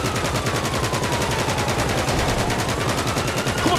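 Continuous rapid minigun fire from a car-mounted gun in GTA 5, a dense, loud, unbroken mechanical roar of shots with no pauses.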